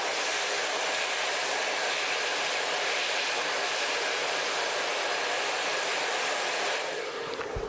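A handheld blow dryer runs steadily on curled hair, a loud continuous broadband whoosh lasting almost the whole stretch before easing off near the end, with no talking.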